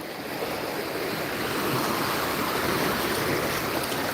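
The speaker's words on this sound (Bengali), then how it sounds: "আমি সমুদ্র একটু ঢেউ দেখাই" Continuous roar of surf on the beach at Digha Mohana, with waves washing up close by and building slightly in loudness, with no voices.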